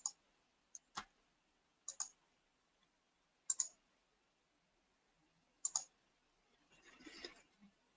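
Sharp mouse clicks on a computer during a software demo, about six isolated clicks spaced irregularly in a quiet room, followed by a brief soft rustle near the end.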